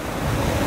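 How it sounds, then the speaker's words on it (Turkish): Wild Black Sea waves crash and roar along the Ordu coast, a steady wash of surf mixed with wind noise, loud and close with no talk. "Böyle bir deniz, vahşi dalgaları."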